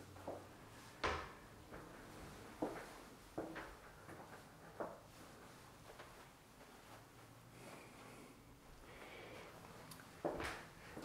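Several doors in a model home bathroom are swung open and shut, giving a handful of soft knocks and clicks spread across the stretch, with quiet room tone and faint movement between them.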